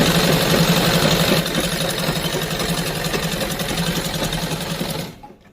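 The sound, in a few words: sewing machine stitching a salwar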